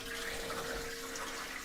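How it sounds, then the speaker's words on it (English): An EPLO smart toilet flushes automatically, producing a steady rushing of water that runs continuously and fairly quietly throughout, with no talking. "Another way that the toilet flushes automatically is if you're sitting on it, there's a sensor in the seat itself."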